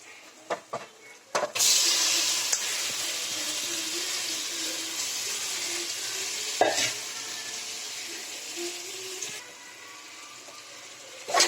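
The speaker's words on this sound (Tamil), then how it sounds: "மேக்னேட் பண்ண சிக்கனை போட்டு வதக்கிக்கலாம்" Marinated chicken goes into a pan of softened tomato and onion for biryani, with a few knocks, then a steady, loud sizzle and rustle of sautéing for the rest of the clip, and scraping stirs now and then.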